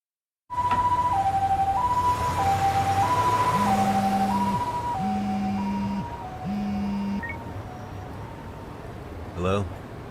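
An ambulance siren in the video game Lost Judgment wails loudly in a steady two-tone rise and fall, a second higher siren layer joining partway through before the sound drops and fades.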